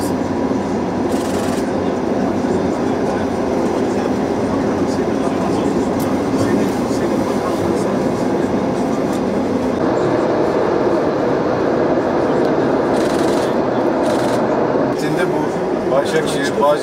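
New Istanbul metro train running on the Başakşehir-Kayaşehir line, a steady loud rumble and rail noise filling the whole stretch with people talking throughout.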